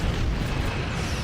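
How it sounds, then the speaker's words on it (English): Torpedoes fire in a Star Trek starship combat game as a loud, dense, continuous rumbling boom that fills the whole moment without voices. "Fire torpedoes."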